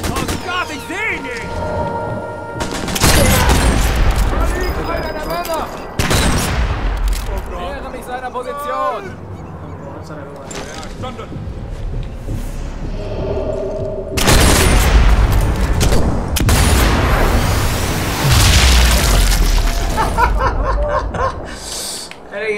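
Gunfire in Sniper Elite 4 appears as heavy booming rifle shots and loud blasts in game audio, mixed with someone talking excitedly and chuckling over it.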